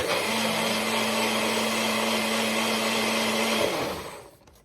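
Loud steady whir of a blender running, with a gritty churning texture from frozen smoothie chunks, winding down and stopping near the end.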